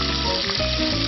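Garlic hitting hot olive oil makes a loud, steady sizzle and crackle, close up, continuous for the whole moment and free of talk.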